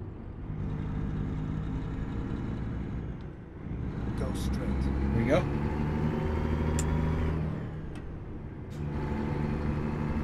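A Kenworth T680 semi truck driving in American Truck Simulator, a steady low diesel engine drone with a brief dip and a few faint clicks and tones, while someone talks over it throughout.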